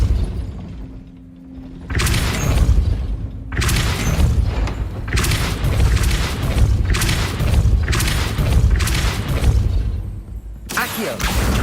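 A Depulso spell cast in Hogwarts Legacy near a gate lands with repeated booming, thudding impacts, loud and close, in bursts across the stretch with brief quieter gaps between them.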